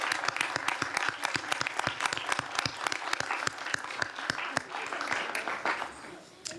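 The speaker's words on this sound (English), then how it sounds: "Let's give them a round of applause." An audience at a Board of Education meeting applauds with a steady patter of many hands clapping for several seconds, fairly faint and slightly distant, then tapers off.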